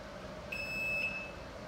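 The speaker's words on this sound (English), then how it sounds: "It beeps when it's 25." An electronic CSI Diamond Back device gives a single short, clear beep at the 25 mark, thin and high over a quiet hum.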